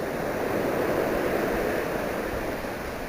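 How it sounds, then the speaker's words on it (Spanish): Sea waves break on a stony shore and pull back over the stones, a continuous loud wash of surf with no voices. "Este es el verdadero sonido del mar."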